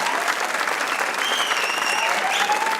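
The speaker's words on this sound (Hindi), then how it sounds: "गंदी बात पे आप लोग कितनी तालियां बजाते" A studio audience breaks into steady, dense applause at a television talk show, the clapping loud and continuous throughout with faint voices and a few whoops mixed in.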